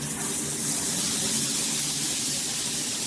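A wall-mounted black square rainfall shower head pours a steady, dense hiss of falling water at close range, a constant spray with no pauses and no talk.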